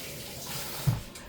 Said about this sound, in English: Now I'm gonna wash my hands.